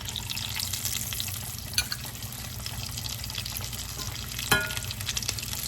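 Food sizzles and fries steadily in warm oil, a dense continuous crackle with a couple of sharper pops and small clatters of pieces being added.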